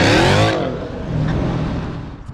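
A 2019 Dodge Challenger Scat Pack with bolt-on modifications revs hard up close, its V8 roar rising then cut off sharply after half a second and settling into a lower rumbling idle.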